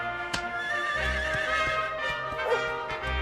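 A horse whinnies in Dragon Quest XI S, a bright, wavering neigh heard alone over a steady game soundscape with soft hoof clops, about three seconds long and fairly close.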